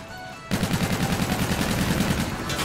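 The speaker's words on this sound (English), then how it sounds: "I'm shooting right at him!" Rapid automatic gunfire in Call of Duty Infinite Warfare, a steady, even burst of shots that starts abruptly after a brief quieter moment and continues loud and close to the end.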